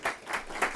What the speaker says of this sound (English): A round of applause for a tremendous